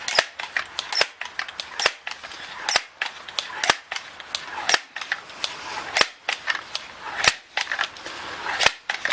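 Repeated pumping strokes on a Crosman M4-177 multi-pump .177 pellet air rifle, a steady series of about a dozen sharp mechanical clacks spaced under a second apart, close and fairly loud with no talking.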